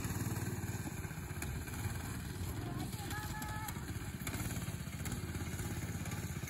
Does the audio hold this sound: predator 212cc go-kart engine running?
yes